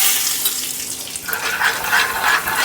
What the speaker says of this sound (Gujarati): અને થોડું આપણે પાણી નાખી દઈશું તેમાં આ રીતે, જેથી મરચું બળી ન જાય.